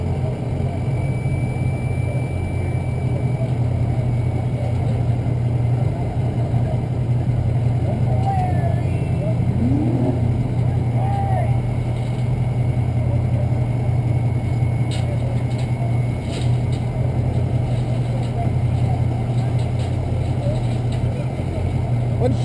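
Sled pull truck with a 6.0 liter engine running on a dyno, a loud steady low drone throughout with little change in pitch, people talking faintly over it.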